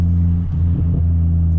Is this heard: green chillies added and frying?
no